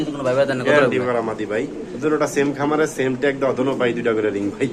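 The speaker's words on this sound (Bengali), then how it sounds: "এখানে আছে একটা কালো বিউটি কবুতর বাচ্চা" Beauty pigeons at a pigeon market coo in soft, throaty bursts close by, partly mixed with and under continuous talking voices.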